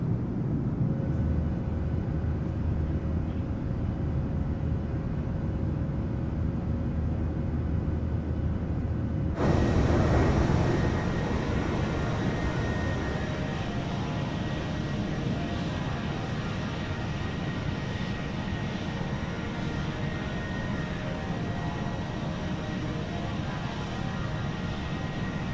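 Boeing 737-800 jet engines spooling up in the PMDG add-on with the Boris soundpack in Microsoft Flight Simulator 2020, a broad roar that surges sharply and then holds a loud, steady whine.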